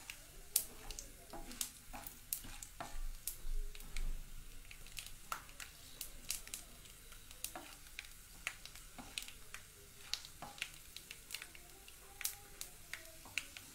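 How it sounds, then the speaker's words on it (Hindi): Dry fruits frying crisp in hot oil in a pan for halwa, giving a faint, steady sizzle with scattered sharp pops and crackles close by. "ड्राई फ्रूट को हम इसलिए फ्राई कर रहे हैं, ये बहुत क्रिस्पी हो जाते हैं"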